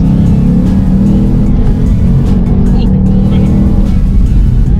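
A 2020 Shelby GT500 engine roars loudly and close throughout, pulling hard under acceleration with a sustained, dense low rumble and a downshift.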